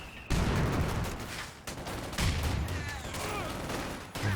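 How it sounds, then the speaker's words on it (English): Dense bursts of rifle and machine-gun fire rattle almost nonstop as soldiers shoot at sandbags in Company of Heroes 2, with sharp crackles and low thumps layered over each other and no pauses for breath. "Shooting at the sandbags here, trying to destroy them."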